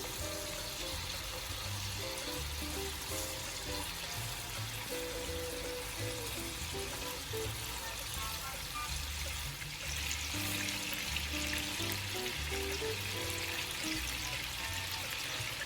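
Fish tocino sizzling in a pan, a steady, even frying hiss that continues throughout under quiet background music.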